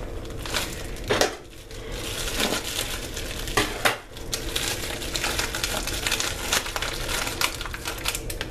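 Plastic package of sliced ham being opened, with crinkling and crackling plastic, a few sharper tearing bursts, and continuous rustling throughout.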